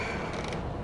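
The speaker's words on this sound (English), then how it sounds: "So, the door just opens when you walk up to it." A door in the video game Enclave slides open by itself: a short mechanical creak and grinding rumble, close and moderately loud, lasting under a second with no voices.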